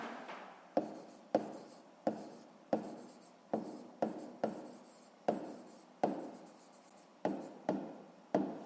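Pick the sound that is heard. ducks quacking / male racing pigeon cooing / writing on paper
writing on paper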